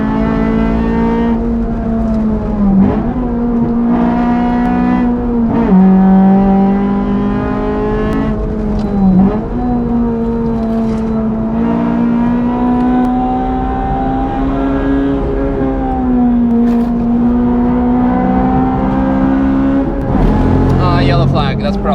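Honda Civic FD2 Type R engine on the Nürburgring, a loud, close in-car drone holding high revs with brief dips at gear changes, rising and falling throughout under occasional talk.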